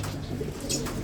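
Caged pigeons or doves coo softly in a low, steady murmur, with a brief higher chirp near the end over a constant low hum, close by and without talk.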